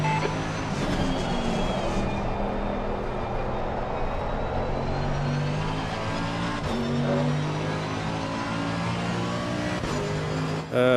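McLaren GT3 race car in a racing video game at Zandvoort, engine droning steadily with shifting harmonic tones and brief gear-change dips, loud and continuous throughout with other cars faintly present.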